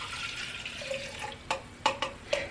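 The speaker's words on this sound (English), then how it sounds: "the first thing that we're going to mix here is 7 ounces of water" Water pours steadily into a container as the first ingredient of an Epcot San Angel Inn margarita mix, with a few sharp splashes and clinks toward the end.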